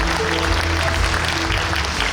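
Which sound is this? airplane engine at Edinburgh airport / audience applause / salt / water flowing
audience applause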